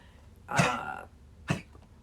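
Two short, harsh coughs from a dog with a collapsed trachea, the first longer and raspier, the second a brief sharp hack, close by with quiet between.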